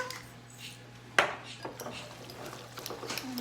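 A vegetable croquette mixture is stirred in a bowl, with a sharp utensil clink against the bowl followed by softer scraping and tapping, close and fairly quiet.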